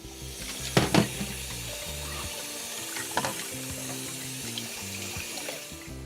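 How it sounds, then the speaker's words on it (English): Boiled zucchini noodles being drained in a kitchen sink, a steady rush of pouring water with a couple of louder splashes near the start and faint clinks of a strainer, with no talking. "my noodles was boiling for about 4 minutes, and I'm draining them"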